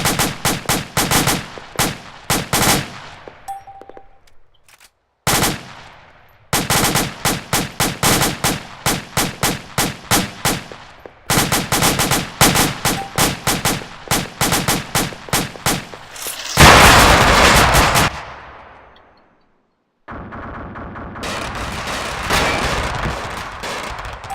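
Armored BTR vehicle's machine gun fires in a video game, long rapid bursts of loud, close gunfire separated by brief pauses, followed by a heavy roaring blast and more sustained noisy fire.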